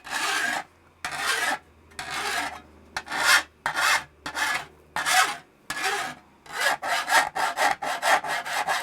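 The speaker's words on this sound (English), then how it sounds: "you'll be able to take your file and come down on your blade to put your edge back on it" A metal file rasps across a worn garden shovel blade to restore its edge, a run of strong scraping strokes, slower and longer at first, then quicker and shorter, close and loud with no talk.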